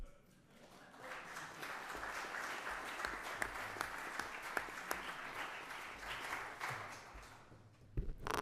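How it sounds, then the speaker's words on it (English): An audience at a joint medical oil hearing applauds state representatives and senators, a dense, even clapping that lasts several seconds and then tapers off at the end. "I will let y'all give them a round of applause"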